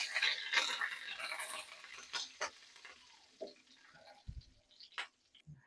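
Dried red chillies and curry leaves fry in oil for a chutney tempering, a soft sizzle with scattered clicks and scrapes of stirring, fairly quiet and close.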